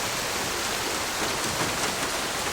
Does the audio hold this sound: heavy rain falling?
yes